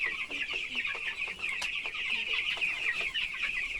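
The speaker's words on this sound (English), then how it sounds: "You feeding the chicken?" Farm chickens clucking steadily at close range, a dense overlapping flock chatter with repeated short clucks throughout, no talking.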